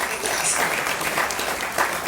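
Audience applause at an Islamic Maulid Nabi religious gathering, a steady dense wash of many hands clapping throughout, fairly close and even in loudness.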